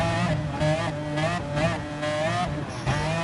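A loud, high-pitched V12 race car engine in a Gran Turismo Sport video game revs and shifts repeatedly, rising and dropping in pitch with steady intensity throughout.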